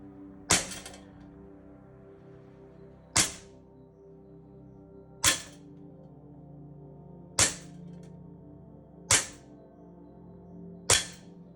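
A CZ SP-01 Shadow .177 airgun replica fires in an indoor test at 8 metres: six sharp, dry cracks, spaced roughly two seconds apart, each with a quick decay over a faint background hum.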